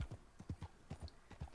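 Horse hooves clip-clop at a steady walking rhythm in the video game Red Dead Redemption 2, regular soft thuds that are fairly quiet and heard alone.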